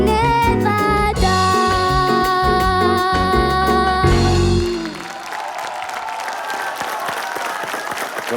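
A band-accompanied song ends on a sustained chord, then a concert audience breaks into steady, loud applause for the singer.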